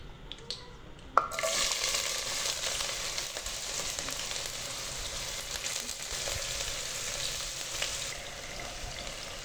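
Thinly sliced onions hit hot ghee with a sudden burst of sizzling, then keep up a loud, steady crackling fry with occasional stir sounds for several seconds.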